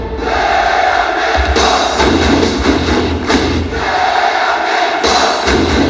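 Church crowd roaring a loud collective shout, a dense sustained wall of voices with a few thumping swells, close and continuous throughout.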